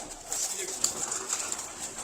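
Rooftop flock of roughly eighty pigeons kept for sale, soft overlapping cooing throughout, moderately close, with steady hiss behind the calls and no clear talk.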